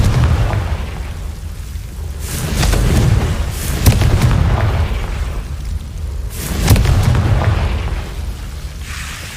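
Two heavy booming blasts from the Confringo fire spell in Hogwarts Legacy, each a deep rumbling explosion that swells and slowly fades, spaced several seconds apart with no talking.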